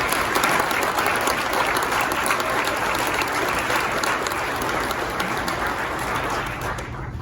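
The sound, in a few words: audience applause at awards ceremony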